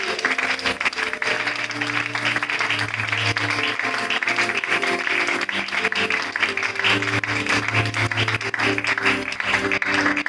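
A church congregation applauds and cheers for Jesus in a continuous, loud wash of clapping and voices, with music underneath.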